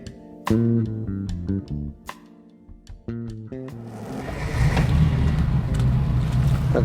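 A classic car with wire wheels cranks over in a few uneven bursts, then catches and settles into a steady, building engine rumble nearby, with no talking.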